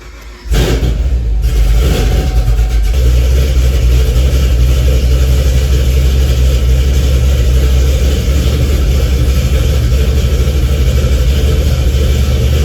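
A fifth-generation Chevrolet Camaro ZL1 engine with a flex fuel setup cranks and catches, then settles into a loud, steady, rumbling run close by. No one speaks.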